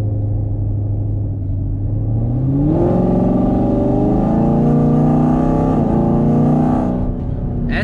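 A 2019 Camaro SS V8 with a 10-speed automatic runs at light throttle, its deep engine drone rising steadily in pitch over a few seconds and then holding a smooth, continuous rumble, close and loud.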